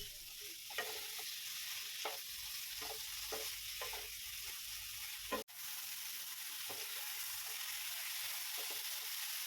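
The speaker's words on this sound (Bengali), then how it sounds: "দিয়ে মশলার সাথে কচুরলতিগুলোকে ভালোভাবে কষিয়ে নিচ্ছি।" Boiled taro stolons sautéed with spices in a pan, a steady close sizzle with repeated scraping stirs and one sharp knock of the utensil partway through.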